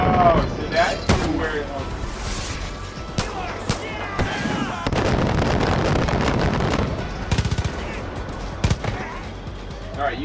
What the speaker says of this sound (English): Use the mortar, haha.